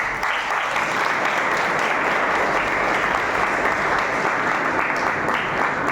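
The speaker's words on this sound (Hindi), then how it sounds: "तो आइए जोरदार तालियों से इन सबका हौसला बढ़ाएं।" Dense, steady applause from the audience at a school debate competition, loud and continuous for the whole stretch with no talking over it.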